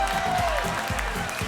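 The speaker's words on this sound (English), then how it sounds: "Let's give them a clap." Crowd clapping at a Greens campaign launch, a brief, continuous burst of applause from an audience.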